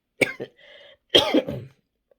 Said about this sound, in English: Why do I keep coughing?